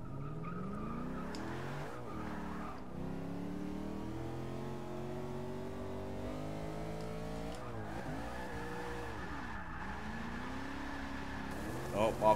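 A Lexus RC F's engine revs and rises in pitch with sweeping gear changes in the racing game Forza 6, tires squealing near the end, while a person talks over it.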